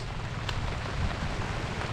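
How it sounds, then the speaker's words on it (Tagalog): Heavy rain pours down in a dense, steady hiss, with a few sharper drips standing out. "yan lakas na naman po ng ulan no"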